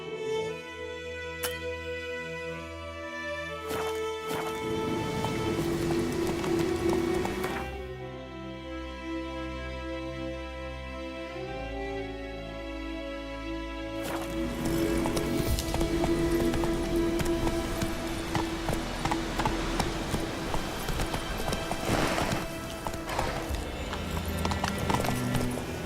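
A horse gallops in The Witcher 3: Wild Hunt, its hooves clip-clopping in a fast, steady rhythm under a loud game soundtrack, with a brief whinny.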